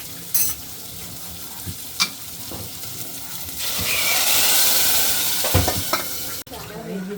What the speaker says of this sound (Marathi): आता डाळ फोडणीला टाकतोय आम्ही. डाळ शिजून झालेली आहे आणि ते फोडणी देणार आहोत.